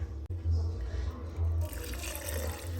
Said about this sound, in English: I'm going to now add the water.